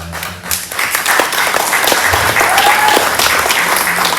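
An audience at a sustainable living festival talk breaks into applause, a steady rush of many hands clapping fairly close, with no speech over it.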